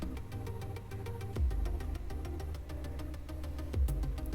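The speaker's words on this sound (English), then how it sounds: "There's that nice exhaust" Factory Mini John Cooper Works Hardtop with a straight-through exhaust and inline muffler, giving a steady mid-pitched engine drone with two short, sharp exhaust pops, close and clear with no talking.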